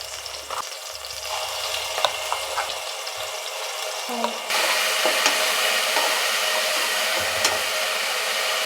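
Tomatoes and ginger garlic paste frying in a pan for chicken dum biryani, a steady sizzle with occasional stirring clinks that grows louder halfway through.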